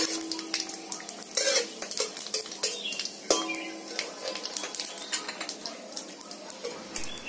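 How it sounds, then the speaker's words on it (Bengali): Fenugreek and whole cumin seeds tempering in hot oil for a Bengali amla pickle, a soft close sizzle broken by frequent metal spoon scrapes and clicks against the pan. "আর ফোড়ন হিসেবে দিয়ে দিচ্ছি একটু মেথি আর কালো জিরে"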